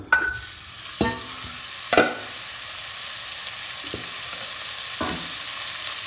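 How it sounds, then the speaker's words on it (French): Steady hiss of ground meat frying in hot oil for chili con carne, with a few sharp clatters of a utensil against the pan, no voices. "l'huile est assez chaude. On met notre viande."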